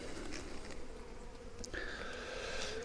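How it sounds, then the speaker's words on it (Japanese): Honeybees drone around an open beehive in early spring, a continuous close, steady buzzing hum with individual bees passing near, and no talk. "ミツバチおとなしいな。"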